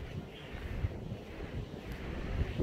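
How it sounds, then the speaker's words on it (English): Wind gusts buffet the microphone outdoors on a very windy day as rain begins, a steady low rumble with rising and falling gusts and no talking. "It's very windy and starting to rain"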